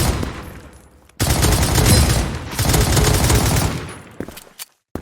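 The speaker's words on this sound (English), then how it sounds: "the last sound that I added really helped with the low end, added that bass and rumble, made it sound more like a real AK" AK rifle fire from a custom Krunker game sound mod, two long rapid automatic bursts with deep bass rumble, split by a short gap and followed by a few scattered single shots before a sudden stop.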